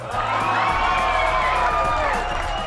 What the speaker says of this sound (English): Everybody give a big round of applause for Roberta.